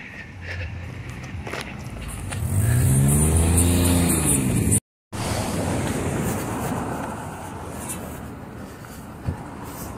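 A car passes on a main street, its engine swelling loudly in the middle and then fading. Steady traffic and outdoor noise continue around it.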